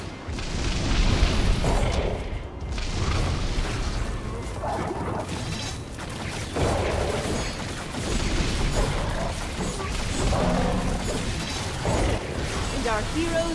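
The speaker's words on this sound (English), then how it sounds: "our heroes destroyed the unstable rift" An unstable rift being destroyed in the OMDU video game, with busy mechanical clanks, crashes and booming bursts layered over continuous game noise and music, loud and dense throughout.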